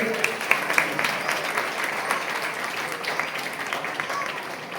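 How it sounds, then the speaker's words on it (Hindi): Guests at a community felicitation ceremony are greeted with steady, fairly loud audience applause, sustained throughout with a few sharper claps standing out near the start. "जोरदार ताली बजाएंगे"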